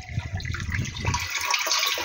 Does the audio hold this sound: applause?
no